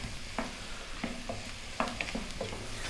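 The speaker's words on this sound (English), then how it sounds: "Let's cook those mushrooms down with the onions and the garlic." Mushrooms, onions and garlic cook down gently in a pan for a bacon mushroom pasta bake, a soft low sizzle punctuated by several distinct knocks and scrapes of a utensil stirring, fairly quiet and wordless.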